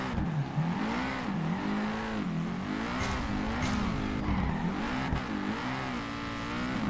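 A car revving in the Peak Angle drift video game, its engine note rising and falling in continuous waves of acceleration, steady and fairly loud with no speech.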